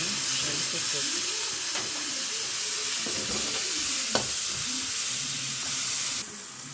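Red tomatoes and onion frying in a pan for a home-cooked dish, a steady close sizzle and hiss with occasional scrapes and clinks of stirring, no talk over it.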